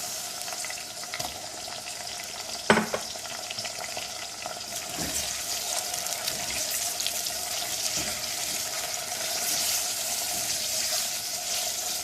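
Boneless beef sizzles with softened sautéed onions in a pot for haleem, a quiet steady frying hiss with one clear clank early and a few faint knocks, no talking.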